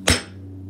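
A single sharp hammer strike on a frozen bottle of ice, a loud close crack that decays quickly over a low background hum.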